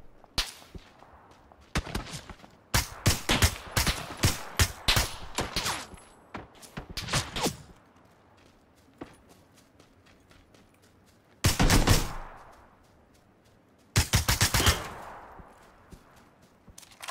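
Bursts of gunfire in PlayerUnknown's Battlegrounds, with rapid volleys of sharp shots through the first several seconds, then scattered single cracks and two later loud bursts, heard alone without talk.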